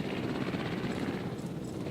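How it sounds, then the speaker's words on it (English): Massive orange transport team helicopter in the Jurassic World Evolution video game, a steady whirring rotor drone with a low thumping pulse, close and constant throughout with no talk. "the transport team, is sort of a massive orange helicopter that comes in out of nowhere"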